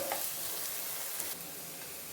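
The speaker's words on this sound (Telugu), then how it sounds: "బాగా వేయించుకొని బ్రౌన్ కలర్ వచ్చేంత వరకు, గోల్డెన్ కలర్ వచ్చేంత వరకు ఆనియన్స్ని వేపుకుందాము." Sliced onions frying in a pan until golden brown, a soft steady sizzle with faint stirring scrapes, quiet and without talk.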